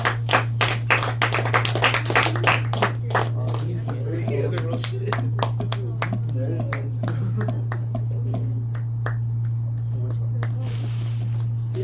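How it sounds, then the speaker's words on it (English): Students in a classroom give a round of applause during a calculus lesson, a burst of close, scattered hand claps that thins out into sparse individual claps over a low steady hum. "Shall we give Diego first a round of applause?"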